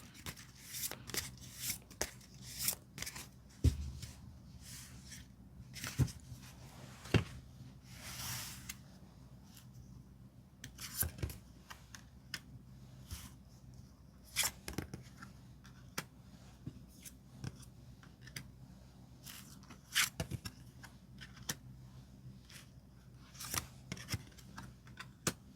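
Tarot cards are handled and picked, with soft, close shuffling rustles and scattered sharp taps and flicks as the cards are drawn and laid down, quiet and irregular with no talking.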